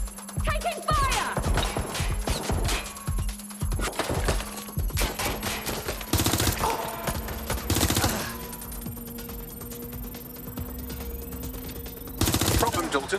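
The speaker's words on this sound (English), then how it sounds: "Taking fire!" Gunfire in the video game Watch Dogs: Legion, a dense run of sharp shots and bursts with louder volleys near the middle and end, under a steady tonal hum and occasional speech.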